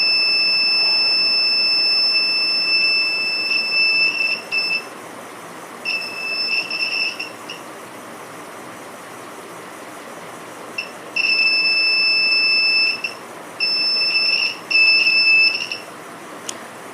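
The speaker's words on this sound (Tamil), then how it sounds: "அந்த பேட்ரி வந்து கனெக்ட் பண்ணும்போது அலாரம் அடிக்கிற மாதிரி செட் பண்ணியிருக்கான்." A shrill buzzer from a homemade battery alarm beeps in several intermittent bursts of varying length, loud and close, over a low background hum.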